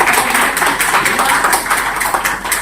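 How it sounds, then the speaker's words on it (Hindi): An audience claps for someone speaker at a gathering of young people in Maharajganj, with dense, continuous applause that stays fairly loud throughout. "एक बार आप सब लोग मैम के लिए ताली बजाइए, जोरदार ताली बजाइए"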